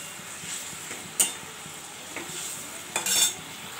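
Fish with salt, tomato and mustard cooking in a pan, a faint steady sizzle broken by a few sharp stirring scrapes and clinks of a utensil against the pan, with no talking.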